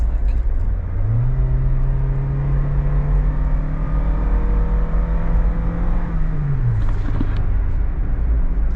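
A car accelerating hard on an open road: a loud steady engine drone rises in pitch as the revs climb, holds there for several seconds, then drops back as the throttle eases, with road rumble throughout.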